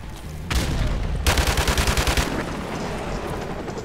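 Barrett M82 sniper rifle fire in Call of Duty 4: a loud blast followed by a rapid rhythmic burst of shots, then a lingering rumbling tail, with no talking.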